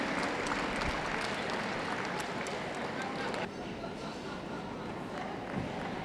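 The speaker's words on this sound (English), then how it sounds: "Big round of applause, please, to all those other best of breeds as they leave the ring at the top end." Audience at a dog show ring applauds the best-of-breed gundogs as they leave, a broad wash of clapping that drops suddenly to a quieter level about halfway, with crowd noise and a voice on the public address.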